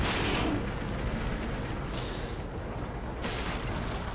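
A tank cannon fires a shell in a tank video game: a loud, sharp blast at the start, followed by a rumbling tail and two further bursts of noise later, with no voices.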